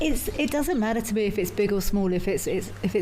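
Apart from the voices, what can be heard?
None of the usual background noises is heard.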